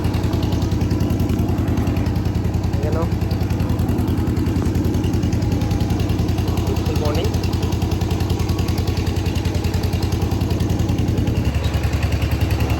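A Royal Enfield Scram 411 motorcycle idles close by, a steady low rhythmic engine throb that runs throughout, with a brief spoken greeting over it.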